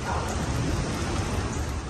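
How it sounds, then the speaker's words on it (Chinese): Heavy rain driven by strong wind from a tropical storm in the southeastern United States, a dense continuous roar of downpour filling the scene without pause. "连日强风加上大雨"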